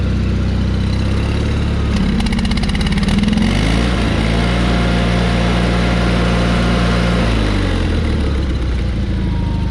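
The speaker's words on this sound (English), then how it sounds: "Engine still stumbles a little bit." A 1991 John Deere 318 lawn tractor engine runs loud and close, a steady heavy drone whose pitch dips and recovers partway through as the engine stumbles slightly, then settles back to an even idle.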